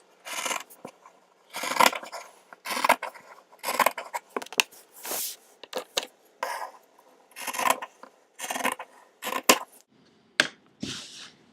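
Scissors cut through a shirt to make a crop top, a series of close, crisp snipping and fabric-slicing strokes in irregular bursts separated by short pauses.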